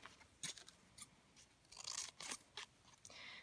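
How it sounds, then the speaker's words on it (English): Scissors snip through a pink paper envelope while squares are cut for a mixed-media craft piece, giving a series of short, crisp, quiet snips and rustles at an uneven rhythm, with no talking. "So I'm going to cut another square the same."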